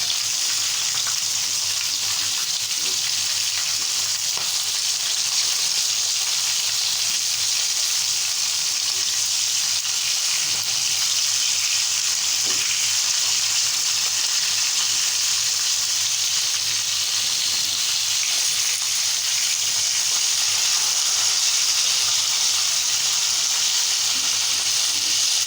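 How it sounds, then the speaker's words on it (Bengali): Fish masala sizzling and frying in a pan after a splash of water, a steady, loud hiss that holds evenly the whole time with faint scraping underneath. "একটু পানি দিলাম, মশলাটা সুন্দরভাবে কষানো হোক।"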